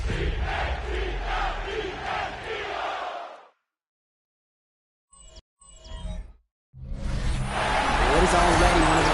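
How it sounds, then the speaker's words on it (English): A stadium crowd in the Madden football video game roars its battle cry inside Arrowhead Stadium in Kansas City, a loud sustained chant that drops out briefly, gives a couple of short bursts, then surges back at full volume. "this crowd has begun its battle cry inside the walls of Kansas City's Arrowhead Stadium"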